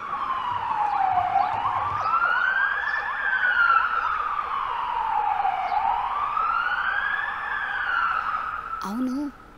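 An ambulance siren wails loudly and steadily, rising and falling in slow sweeps as it passes close by, then cuts off abruptly near the end with a brief burst of voice.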